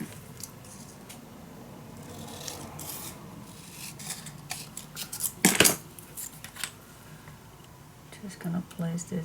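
Scissors snip through a piece of scrapbook paper in a few short, crisp cuts close by, with a sharper burst midway, amid light paper handling and rustling.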